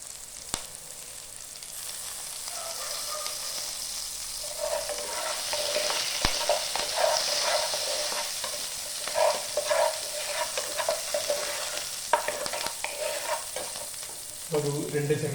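Garlic and curry leaves sizzle and crackle steadily in hot oil, a close, continuous frying hiss with occasional stirring scrapes, growing busier partway through.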